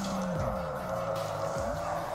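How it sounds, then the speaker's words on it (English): Tires squealing as a car drifts in the DriftCE video game, drawn-out sliding screeches over a steady engine drone, with pitch sweeps as the car slides, loud and close. "Let's jump into the cockpit and do a little cockpit drifting."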